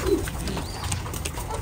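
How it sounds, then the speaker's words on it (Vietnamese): Thai Titan pigeons coo on a breeding farm: low, soft throaty calls repeat over a hum of background noise, with several birds heard around the pen. "Người ta hay gọi đây là chim bồ câu hậu bị đấy."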